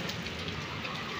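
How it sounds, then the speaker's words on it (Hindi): Heavy rain pours down in a dense, steady hiss, close by and constant, with no voices. "क्या आला बारिश हो रही है"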